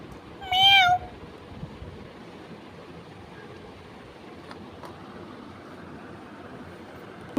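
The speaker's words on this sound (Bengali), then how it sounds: "ও তুমি বিড়ালটাকে দেখছো শোনা" A single short cat meow, clear and fairly close, rises out of quiet indoor background noise near the start and then gives way to low room ambience.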